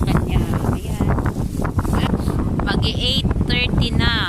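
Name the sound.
strong wind blowing into the microphone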